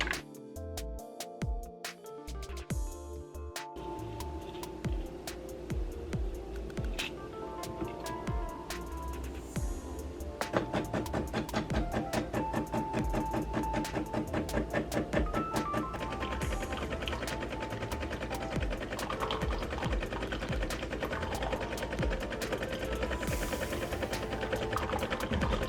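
Coffee machine running while brewing: a continuous mechanical buzzing drone with steady rhythmic pulsing, growing a little louder and denser after the first few seconds and holding through the rest.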